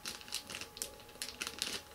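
Packaging of Nollie metal skateboard wheels being opened, soft, close crinkling and rustling in quick irregular bursts.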